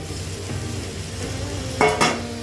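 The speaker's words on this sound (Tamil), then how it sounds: "இது எல்லாத்தையுமே மசாலா ஒன்று சேர்ந்த மாதிரி கிளறி விட்டுக்கணும்." Boiled drumstick-leaf pasta being stirred in a pan with soy and chili sauce: a soft steady sizzle with two quick scraping clatters of a spoon against the pan near the end.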